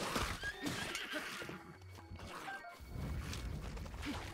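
A horse in The Legend of Zelda: Breath of the Wild gives a loud, drawn-out whinny, with hoof clops and game sounds around it.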